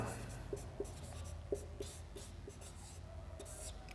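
A teacher writes notes during a fundamental rights lesson, with a steady series of light scratching and tapping strokes from pen or chalk, close and fairly quiet.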